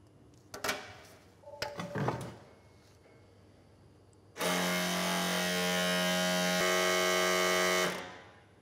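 A Tesla brake system runs its diagnostic brake fluid bleed procedure. A few clicks and knocks come first, then an electric pump hums steadily and close for about four seconds before winding down.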